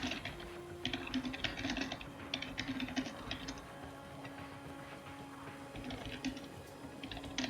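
Computer keyboard typing in quick bursts of soft clicks, with pauses between runs, over a steady background hum and no talk.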